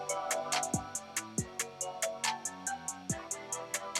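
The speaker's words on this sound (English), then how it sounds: "So the hi-hat rolls basically sound like this." A drum beat programmed in FL Studio, with crisp hi-hat rolls filling the gaps over a synth melody and deep kicks, repeating as a steady loop.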